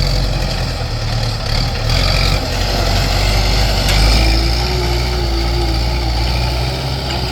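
Used Kubota M7040 tractor engine running steadily, a loud, close, low diesel rumble holding even throughout, with a faint whine rising briefly midway.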